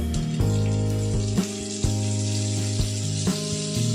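Chopped green chili frying in a hot pan over low to medium flame for fried rice hisses steadily, with a few sharp clicks and knocks of a utensil on top, close and without talk.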